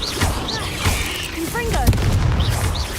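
Fire blast spell Confringo cast in Hogwarts Legacy, with booming impacts and crackling magical bursts over a continuous game soundscape; a voice is heard speaking as well.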